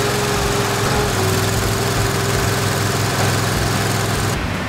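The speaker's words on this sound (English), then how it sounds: "We're now going to pick up the mini loader drive with the machine." The engine of a mini loader machine runs steadily nearby, a loud continuous buzzing drone with a constant pulsing hum and no pauses.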